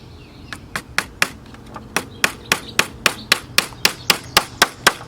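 A small hammer taps wire brads into a wooden honey super frame, about sixteen sharp close knocks in a steady, slightly quickening rhythm with no talking.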